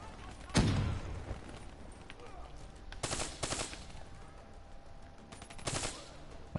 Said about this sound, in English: this is a burst fire